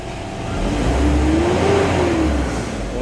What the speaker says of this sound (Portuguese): Dá umas aceleradas aí, Bruno.